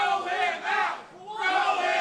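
A wrestling crowd jeers at Chris Desmond with loud sustained chanting and booing, the collective voices swelling, dipping briefly in the middle, then rising again.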